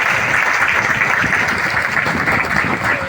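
Loud, dense applause from a large audience at a company sharing and marketing event, sustained and steady throughout with no pauses.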